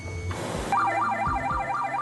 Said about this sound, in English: Sound the alarm promptly.